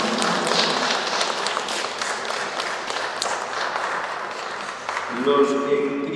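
A congregation at a baptism applauds for Edwin, and the clapping holds steady throughout. Near the end a voice or some music begins to come through over it.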